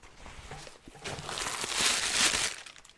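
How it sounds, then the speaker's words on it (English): A reusable plastic bag crinkles and rustles as it is handled, the crackling swelling louder in the middle and then tapering off, close and alone without talk. "This is a plastic bag that is nominally reusable."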